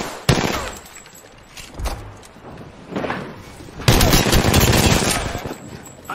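Rapid gunfire in Apex Legends on Xbox One comes in close, loud bursts: a sharp opening shot, scattered shots, then a sustained automatic volley with impact and reload clatter.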